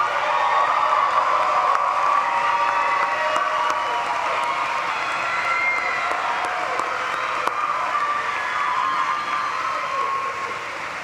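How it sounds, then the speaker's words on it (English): Sustained audience applause for faculty at a commencement ceremony in Gentile Arena, a broad, even roar of many hands clapping that fills the large hall and slowly tapers toward the end. "give them a round of applause for thanks"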